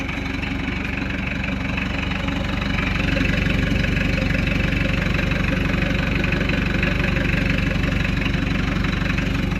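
Mitsubishi Delica turbo diesel idling through a custom 3-inch exhaust, a steady close rumbling clatter with an even pulsing beat and a slight rise in level partway through.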